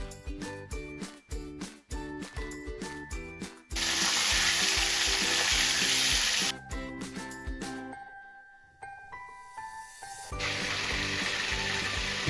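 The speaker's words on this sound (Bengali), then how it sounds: "এবার আমরা চিকেনগুলো হালকা করে একটু ভেজে" Chicken pieces fry lightly in plenty of hot mustard oil, first with a run of quick clinking stirs, then a loud bright sizzle that drops away and returns strongly; no one speaks.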